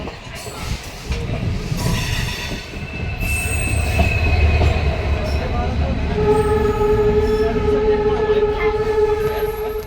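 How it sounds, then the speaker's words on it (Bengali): A suburban train running out of Howrah, loud rumbling wheels with sharp squealing tones from the rails rising over the din, heard from on board with a brief voice. "এখন হাওড়া থেকে আমাদের ট্রেন ছাড়া পর আমরা এখন উদ্দেশ্যে রওনা দিলাম"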